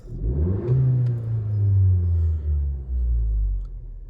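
A 10th-generation Honda Civic hatchback Sport with a Ktuner tune revs up, its engine rising to a loud, throaty drone and falling back, then revving again, close and clear with no talking.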